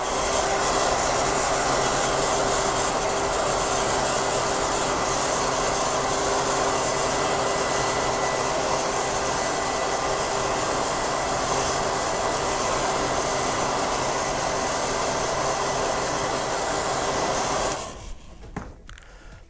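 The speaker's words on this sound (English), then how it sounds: "I'm just going to hit it with the hairdryer for a little bit" A hairdryer blows continuously and loudly on a freshly painted Boba Fett jet pack prop, a steady broadband whoosh that holds nearly twenty seconds before cutting off abruptly near the end.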